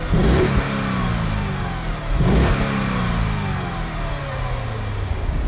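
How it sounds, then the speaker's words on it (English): A deep V8 exhaust of a Mercedes E55 AMG W210 burbles steadily through chrome AMG pipes, blipped twice into sharp revs that rise and fall back to a rumbling idle, close and loud. "two large chrome AMG exhaust pipes, and this is what they sound like"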